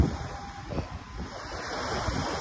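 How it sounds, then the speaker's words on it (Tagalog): Steady gusting wind with the broad rush of surf at Dolomite Beach on Manila Bay, buffeting noise throughout and no voices. "Kahit na malakas ang hangin, malakas ang alon"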